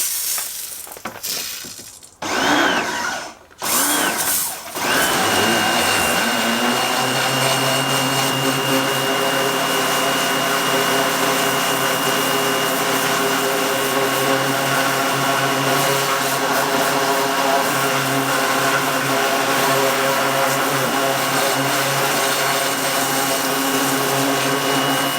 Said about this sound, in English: Now let's get pressure washing in and around that sort of rear swing arm area.